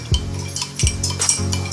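A spoon stirs onions in a pan to draw out their juice, making a few short scraping, clinking strokes against the metal with a low sizzle between them, close and moderately loud.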